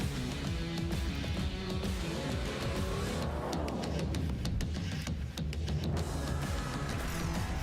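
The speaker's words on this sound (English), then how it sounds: "Car go vroom vroom." A Porsche race car in a Le Mans game showcase trailer drives and revs, engine pitch climbing and falling through gear changes over a busy rumbling mix, fairly faint and without talk.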